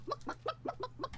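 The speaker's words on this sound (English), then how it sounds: "There's a chicken. He's about to get up." A chicken in the video game Realm Royale clucks in a quick run of six short, evenly spaced clucks, close and clear, with no talk over it.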